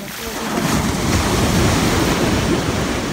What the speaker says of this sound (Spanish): Las olas no van a dejar que nos escuchemos.